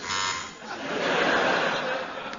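A harsh electronic buzzer sounds near the start, followed by laughter and chatter from a small group.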